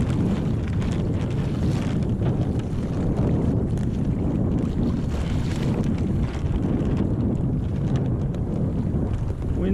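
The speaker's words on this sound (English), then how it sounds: "Wind seems a little bit gusty." Gusty wind buffets the microphone while sailing a Hobie Adventure kayak off Pensacola, a loud, constant low roar with slight surges in strength and no speech.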